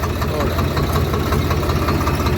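A tractor with a disc harrow running steadily nearby in a field, low rhythmic chugging throb, cutting off abruptly at the end.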